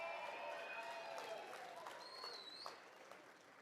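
Applause for honoree Ken Stevenson, recognized for producing superior railway ties, at the Top 7 Over 70 gala, a crowd clapping at moderate distance with a few whoops that slowly fades over a few seconds.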